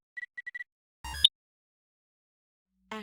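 Electronic beeps in the Star Ocean 3 video game: a rapid string of four short high blips, then a louder buzzy burst, and after a pause another harsh electronic tone.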